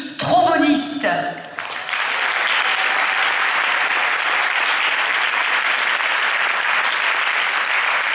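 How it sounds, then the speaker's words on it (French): An audience at a junior mass band concert in Grande-Synthe applauds the trombonists, with a brief burst of voice and sound at the start giving way to sustained, steady clapping from a large crowd. "on peut l'applaudir aussi, elle fait partie des trombonistes"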